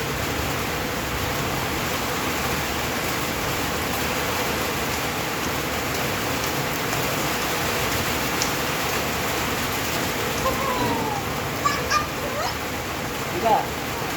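Rain falls outdoors as a dense, even hiss that holds steady throughout, with a few faint knocks and indistinct movement sounds near the end.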